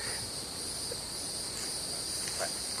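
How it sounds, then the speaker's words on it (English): Crickets chirp in a steady, high, shimmering drone, constant and fairly quiet, with no voices. "God, listen to the crickets."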